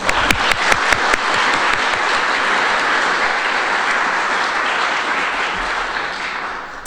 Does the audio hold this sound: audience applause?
yes